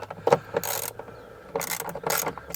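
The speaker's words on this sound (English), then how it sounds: "these babies, I believe, are 10 millimeter. And all we want to do is loosen them up" A ratchet wrench loosens 10 mm bolts during a car dash cam install, giving short bursts of rapid clicking separated by pauses, close by.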